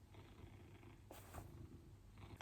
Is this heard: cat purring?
yes